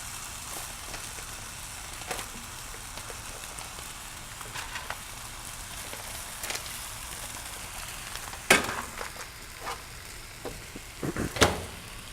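A steady, low sizzle of chicken frying in a pan, with a few sharper crackles and pops breaking through near the end.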